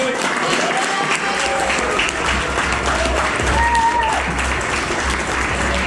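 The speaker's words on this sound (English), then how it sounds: "So, yeah, round of applause." At the Preston City end-of-season presentation, an audience applauds a player, steady sustained clapping filling the room with murmured voices and background music beneath.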